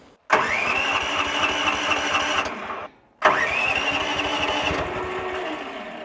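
A vehicle engine cranks and catches twice in succession, each start rising quickly to a steady, loud running roar close by, with a short silent gap between the two attempts.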